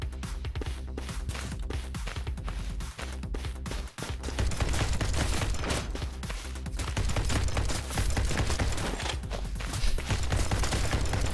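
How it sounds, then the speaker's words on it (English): Rapid gunfire in the action shooter To Hell with Hell, a dense, continuous barrage of shots and impacts layered over loud game music. "I love just shooting these flame trails"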